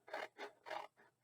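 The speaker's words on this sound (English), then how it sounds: "I'm going to take my scissors and I'm going to just cut and leave the backing on it." Scissors cut through craft paper with its backing still on, giving four quick crisp snips in an even rhythm, close and clear with no talking.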